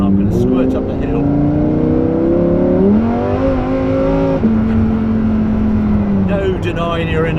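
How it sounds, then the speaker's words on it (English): A Lamborghini Huracan Evo RWD in sport mode accelerating hard uphill, its engine loud and close from inside the car, revving through rising pitch sweeps with a gear change, continuous and dominant, with speech briefly over it. "No denying you're in a Lamborghini, is it, when you hear that sound?"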